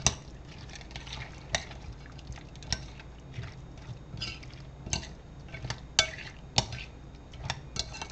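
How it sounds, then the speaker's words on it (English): A spoon stirs a chicken pot pie casserole mixture with milk, giving a steady wet scraping with sharp clinks against the bowl at irregular intervals, close and moderately quiet, with no talking. "You want to mix it thoroughly."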